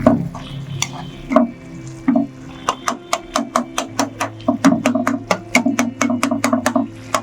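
Potatoes being stirred and mashed into a thin curry gravy in a pan for a white potato curry, a steady run of sharp spoon-on-pan scrapes and taps over a soft sizzle, growing quicker and denser toward the end.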